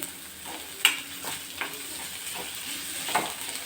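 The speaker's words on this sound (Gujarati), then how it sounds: "અને એને સરસ આપણે થોડીક વાર સાતળવા દેશું." Dry onion sautéing in a pan for Kathiyawadi Girnari khichdi gives a steady close sizzle, with occasional stirring scrapes and small pops along the way and no talking.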